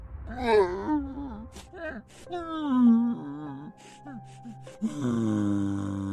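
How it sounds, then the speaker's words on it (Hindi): A monster gives a strange, heavy wailing cry, a drawn-out warbling moan that rises and falls in several long voiced swells, loud and close, ending in a lower sustained groan. "वो जियान के सामने अजीब से रोने की आवाज निकालता है।"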